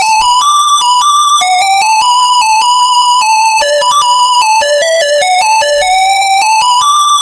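A bright, tonal melodic dubstep synth lead made with FL Studio stock plugins plays a flowing melody of sustained and gliding notes, loud and alone with no other sounds.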